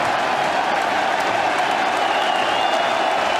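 Cricket crowd at Headingley on their feet applauding a standout England innings, a dense, steady roar of clapping and cheering filling the whole stretch without a break.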